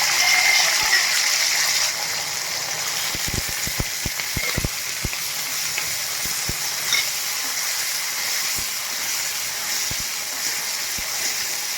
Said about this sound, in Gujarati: તો આપણે કરમદા તેલમાં નાખ્યા